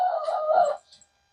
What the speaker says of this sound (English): I think that's that rooster trying to crow.